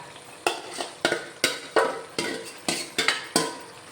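Fried sliced onion stirred into a simmering curry in a pan, with about ten sharp, evenly spaced scraping strokes of a spoon over a low sizzle, heard close and clear.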